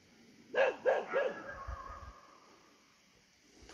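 Guard dog barking at a distance: three quick, evenly spaced barks followed by quieter low rumbling, then silence in an outdoor setting.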